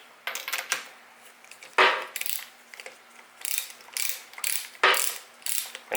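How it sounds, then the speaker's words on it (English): Ratchet socket wrench on an extension loosening the spark plugs of a Mercury 30HP EFI outboard: close, dry ratcheting clicks in about seven quick bursts with short pauses between, no talking. "you need a 5/8 spark plug wrench or a long socket, and probably an extension"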